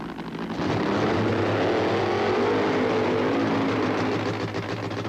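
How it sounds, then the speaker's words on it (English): Drag racing car at the 1985 NHRA Big Bud Shootout in Indianapolis doing a long, smoky tire-heating burnout, a loud sustained engine roar with screeching tires that builds sharply after a brief lead-in and holds steady close by. "The long, smoky burnout to heat the tires to provide the traction for Ed the Ace McCulloch"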